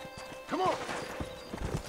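Hooves clip-clop in a quick rhythm while a horse gives a short whinny in the video game Red Dead Redemption, with a voice speaking over part of it.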